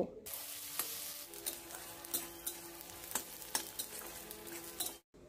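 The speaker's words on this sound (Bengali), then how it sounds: "পেঁয়াজটা একটু হালকা করে ভেজে নেব।" Chopped medium onion frying in a pan over cumin tempering, a steady close sizzle with occasional stirring scrapes, continuous until it cuts off near the end.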